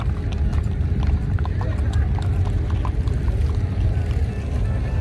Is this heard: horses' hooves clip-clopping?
yes